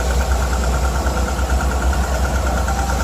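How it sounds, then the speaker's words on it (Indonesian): A Daihatsu Ceria's small engine idles steadily while warming up to charge the battery, a continuous close, loud drone with an even hum and faint rattle, no voices. "Ini sekalian mobil akan saya panaskan biar mesinnya mengisi ya, biar alternatornya mengisi ini"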